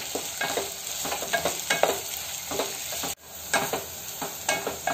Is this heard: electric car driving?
no